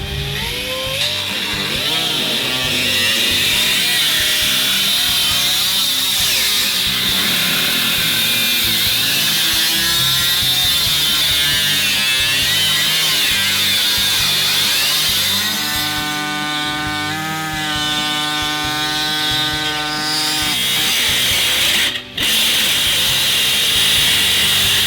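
A power tool cuts steadily along a marked line in the floor pan of a 1982–92 Camaro, giving a loud, continuous high-pitched whine and grind that stays near and constant for about twenty-five seconds, with a brief dip near the end.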